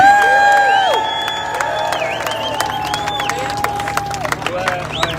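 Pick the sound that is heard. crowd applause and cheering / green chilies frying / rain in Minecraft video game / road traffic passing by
crowd applause and cheering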